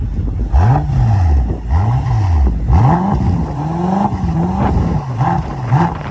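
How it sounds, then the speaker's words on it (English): A BMW M6 engine revs up and down in several repeated bursts, loud and close, each rise in pitch falling back before the next. "Give me a couple revs, man."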